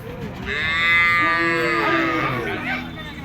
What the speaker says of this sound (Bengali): এই একটা গরু